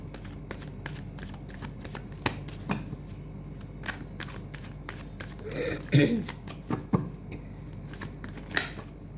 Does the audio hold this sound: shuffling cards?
yes